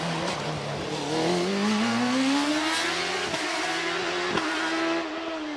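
A DJ Firehawk hillclimb race car, driven by Debbie Dunbar, tears up the course in a loud, close engine roar that climbs steadily in pitch through the gears, with a few brief crackles along the way.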